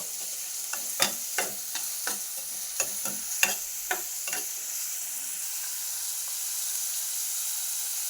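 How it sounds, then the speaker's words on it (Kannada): Girmit masala frying in a pan, with a loud steady sizzle and a quick run of sharp stirring clacks in the first half before the hiss carries on alone. "ಇದನ್ನು ಸ್ವಲ್ಪ ಚೆನ್ನಾಗಿ ಫ್ರೈ ಮಾಡಿಕೊಳ್ಳೋಣ ಯೆಲ್ಲೋ ಕಲರ್ ಬರೋವರೆಗೂ"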